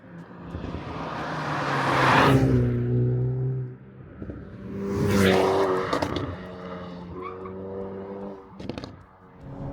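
A Hyundai Veloster N hatchback's engine revs up and pulls away, rising and falling through gear changes, close and fairly loud with no talking.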